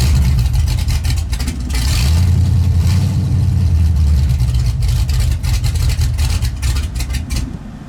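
Junkyard truck with a Ford 302 V8 pulls away and drives, its loud low engine rumble rising and surging steadily throughout, heard close from inside the cab.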